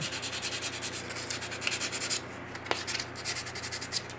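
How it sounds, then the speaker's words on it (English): Sandpaper rubbing over a super glue spot on an old car part, a steady rapid rasping scrub that pauses briefly midway, then resumes close and continuous with no talk. "Just sand in the little super glue spot right there."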